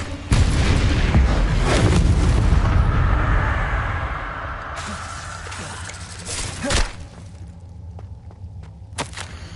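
Booming Confringo spell blasts in the Hogwarts Legacy video game, a loud sustained roar of explosions for the first few seconds that fades into softer rumbling, with a few sharper impact cracks later on.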